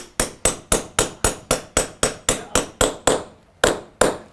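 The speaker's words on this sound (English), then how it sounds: "just grab the hammer, tap it in gently" A hammer taps a metal bolt into a wall in a steady, even rhythm, about fifteen sharp ringing strikes close by, with a short pause before the last two.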